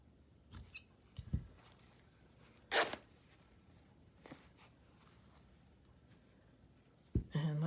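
Scissors cutting fabric for a fabric journal page, a few quiet snips and a sharp crisp cut spaced apart over near silence.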